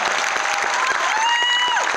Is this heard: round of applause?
yes